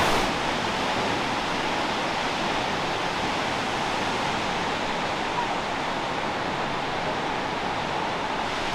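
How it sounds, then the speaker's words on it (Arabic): A waterfall in Interlaken, Switzerland, with clean water pouring down from above, a loud, steady broadband rush that continues unbroken at close range. "بص بص بص الشلال من فوق نازل ازاي، الميه طبيعيه ونظيفه جدا."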